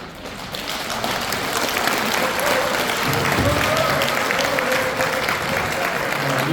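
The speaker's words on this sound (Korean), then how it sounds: "큰 박수를 부탁드리겠습니다" Loud, sustained applause from the audience of a public humanities lecture, steady dense clapping filling the room for several seconds with crowd noise underneath.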